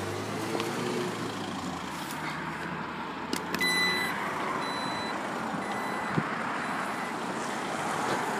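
Backup sensor on a 2014 Jeep Grand Cherokee Diesel at a dealer lot, a faint series of high beeps over a steady outdoor traffic hum.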